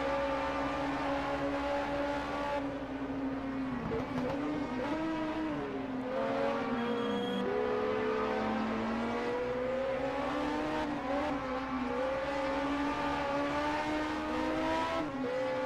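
Turbocharged 1978 DRM race cars lap the Mainz-Finthen airfield circuit, engines droning loudly and steadily with shifting pitch as they run in close company, the roar continuous throughout with no voices.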